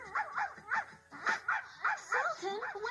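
A dog named Sultan whimpers and yips in a run of short, rhythmic cries, fairly faint, in an animated Beauty and the Beast Christmas film.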